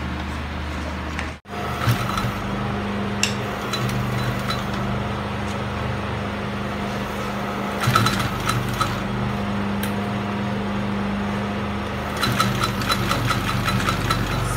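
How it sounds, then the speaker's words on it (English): A sewing machine stitching a leather bag pocket, running as a steady mechanical hum with faint rhythmic clicking throughout, briefly stopping near the start. "Sewing of the pocket."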